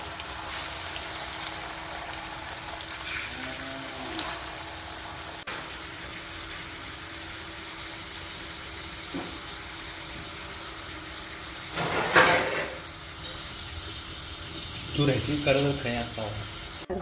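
Potato chips deep-frying in hot oil over a high flame, a steady faint sizzle through the whole stretch with a few louder bursts and clatters along the way, no voices.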